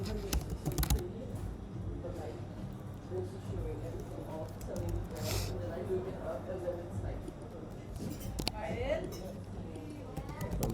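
Keyboard keys clatter in quick irregular bursts while a person speaks over them, close to the microphone.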